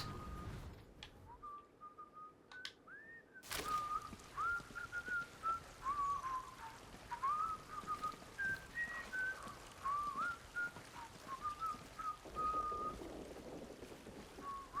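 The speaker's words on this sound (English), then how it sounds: "See whistling wheels in the bus?" A high, wavering whistle, heard as the whistling wheels of a bus in the game Atomfall, runs steadily through most of the stretch. It starts faint and grows louder after a sudden onset, with no speech over it.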